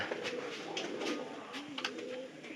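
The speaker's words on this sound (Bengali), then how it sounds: "এইটা আমাদের কবুতরের হ্যাঁ, ভিতরে তো আপনারা দেখছেনি" Soft, low pigeon coos murmur steadily against a hissy background, with a few faint chirps and flutters, no speech.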